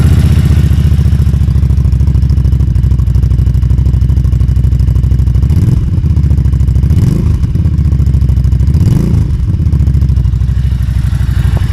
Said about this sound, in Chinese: 这个排气声总体感觉跟奔达的车差不多